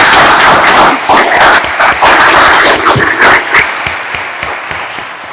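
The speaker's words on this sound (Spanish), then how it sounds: "Aplaudamos este logro." An audience claps loudly at a lawyers' swearing-in ceremony before the Supreme Court, a dense burst of applause that gradually thins out.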